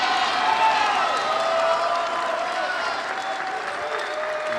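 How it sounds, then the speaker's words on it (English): Arena crowd roars and applauds after a point at a Major League Table Tennis match, a loud sustained wash of clapping and cheering that holds steady throughout. "And what a roar from the crowd after that point, with Xia taking the lead"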